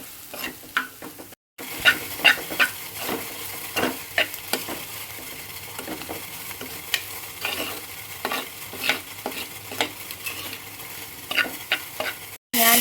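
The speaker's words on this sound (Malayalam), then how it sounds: "ഇതിനെ ഒന്ന് ഇളക്കാം." Potato masala with coriander, chilli powder and turmeric is stirred in a frying pan, a steady sizzle broken by repeated scraping strokes of the spoon, close and fairly loud.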